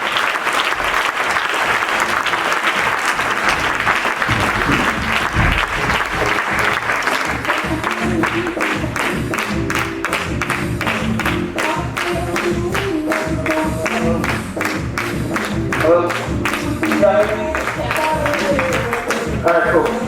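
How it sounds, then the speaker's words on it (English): A large audience breaks into steady, dense applause that holds loud and continuous throughout, with scattered cheering mixed into the clapping. "Everybody give them a round of applause."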